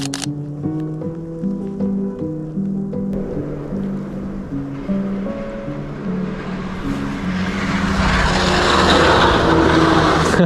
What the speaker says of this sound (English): Snowmobile's ripping by.